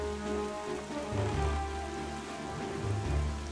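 Typhoon rain pours down in the video game The Legend of Zelda: The Wind Waker HD, a steady hiss of heavy rainfall with low rumbling surges of storm wind underneath.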